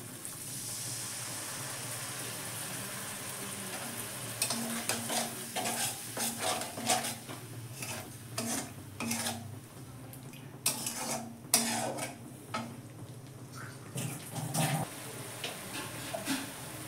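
Ground spices and poppy seed with chal magaj paste sauté in oil for egg posto. A soft, steady sizzle runs under repeated scraping and stirring clinks of a spoon against the pan, close, with no talk.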